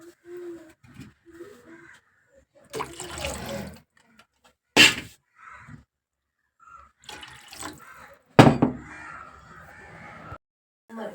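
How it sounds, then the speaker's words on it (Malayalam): Water poured into a pot of rasam, already holding tamarind water, in a home kitchen; several short splashing bursts of pouring stand out, with crows cawing outdoors in the background. "വെള്ളം ഒഴിച്ച് കൊടുത്തിട്ടുണ്ട്."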